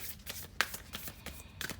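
Quick shuffle of a tarot deck close up, a run of soft riffling flicks and card slaps for nearly two seconds, with no talk.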